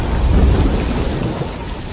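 A violent storm at sea on the Pacific Ocean: heavy rain pours and a low, continuous roll of thunder rumbles, loud and close, with no voices.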